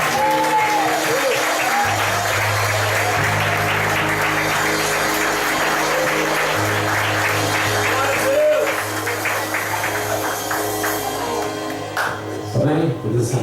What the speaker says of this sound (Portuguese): Dê um forte aplauso para o Espírito Santo de Deus.